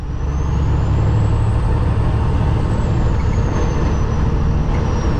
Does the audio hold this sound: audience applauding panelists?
no